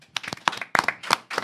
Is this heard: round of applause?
yes